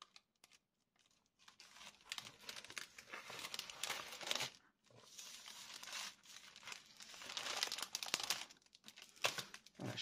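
Thin rice paper sheets crinkling and rustling as they are slid back into a packaging pouch, a close, irregular run of crisp crackles with brief pauses.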